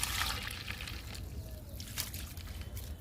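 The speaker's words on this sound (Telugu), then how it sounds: "బుల్లి మందారానికి కూడా లిక్విడ్ ఇస్తున్నా." Homemade liquid fertilizer trickles and splashes as it is poured onto a small potted hibiscus, a steady close dribble with brief brighter splashes throughout.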